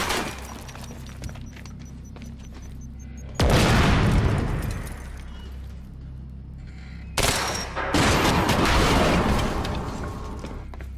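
A grenade explodes in the video game Quantum Break, two loud booming blasts several seconds apart with crackling debris and gunfire-like rattle trailing off after each.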